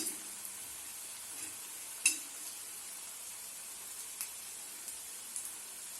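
Turnip koftas frying in hot oil over a low gas flame give a soft, steady sizzle, quiet and continuous, with one sharp click partway through.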